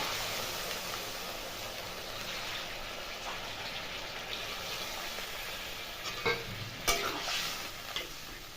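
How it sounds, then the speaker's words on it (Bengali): Hot water poured into a pan of sautéed potatoes, a steady bubbling hiss with occasional clinks of a utensil, fairly quiet and continuous. "দিলাম গরম জল"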